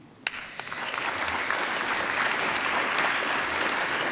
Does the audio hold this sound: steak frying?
no